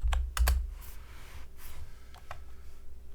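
Several quick keystrokes on a computer keyboard as a new web address is typed, a short burst of clicks early on followed by a few sparse taps, close and fairly quiet.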